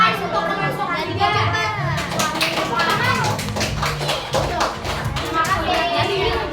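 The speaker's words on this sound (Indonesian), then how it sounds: "Tepuk tangan untuk kelompok 3." A class of young primary-school children applauds a classmates' group, a dense burst of clapping that swells after a couple of seconds, mixed with excited kids' chatter and shouts throughout.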